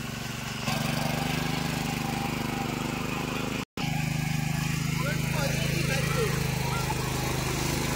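A tractor engine churns mud in a flooded paddy field, loud and steady with a droning hum and one brief cut midway, and voices talk over it.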